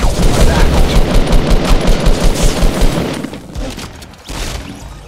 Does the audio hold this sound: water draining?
no